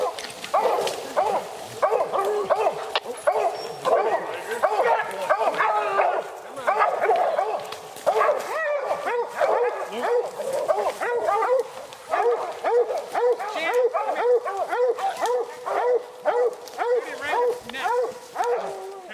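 Hunting dogs bark and yip continuously at a bear up a tree in the outdoors, a dense overlapping chorus of rapid barks that keeps going with someone talking over it.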